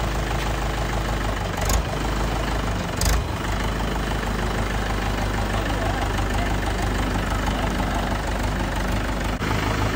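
A tractor engine idles on a farm in India, a steady low rumble that stays loud and close throughout, with a couple of brief knocks and no talk.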